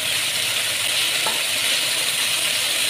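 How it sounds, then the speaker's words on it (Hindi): Food frying hard in a pan over high heat for a paratha roll, a steady loud sizzle throughout with one faint clink partway through. "थोड़ी आँच मैंने ज़्यादा रखी है कि अच्छे से फ्राई हो जाए"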